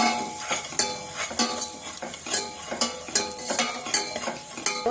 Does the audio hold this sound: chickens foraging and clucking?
no